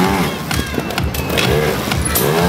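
A trial motorcycle engine revs at a mototrial show in Norcia, its rising and falling whine sitting amid a loud, busy outdoor mix of crowd noise and sharp knocks throughout.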